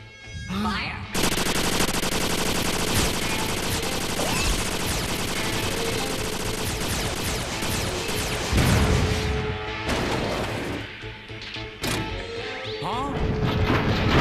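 Barrage of gunfire and crashing blasts in an animated sci-fi battle, loud and dense over about fourteen seconds, with repeated bursts and impacts after a shouted command, voices briefly heard amid the noise.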